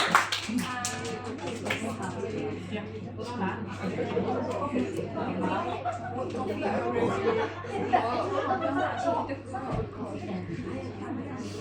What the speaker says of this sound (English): a big round of applause for Brand Booster